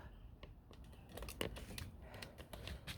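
Garden shears snipping spent flowers off an azalea outdoors, a quick series of faint, close clicks and snips over low background noise, without talk.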